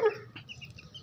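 Aseel hen and rooster kept together in a farmyard, giving a brief close burst of clucking at the start that fades into soft, low background noise.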